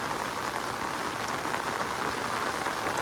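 Heavy monsoon rain is falling in the Gir forest, where water is pooling among the babul trees. A dense, steady downpour patters close by on the surfaces without a break, with no voices.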